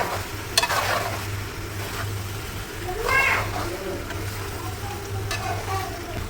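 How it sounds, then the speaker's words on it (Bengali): Pasta tossed into spiced meat in a pan, frying with a soft steady sizzle as a spoon stirs it in a few scraping bursts, with a low hum underneath throughout. "এখন এই মাংসের মধ্যে দিয়ে দিচ্ছি, দেখুন পাস্তা।"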